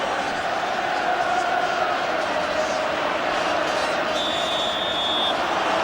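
A stadium crowd roars continuously after England score against the Netherlands in a 1994 World Cup qualifier, a dense far-off wall of cheering under a commentator's voice.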